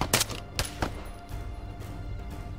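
Sporadic gunfire in a military shooter game, a few sharp loud shots early on, then a lull with low battlefield rumble and no talk.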